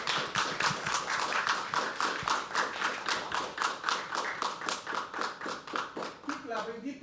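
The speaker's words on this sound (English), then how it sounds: "Can we start clapping for Namrata?" An open-mic poetry audience at The Habitat claps for performer Namrata in a steady, fairly sparse rhythm of distinct hand claps, close and clear, with a voice coming in near the end.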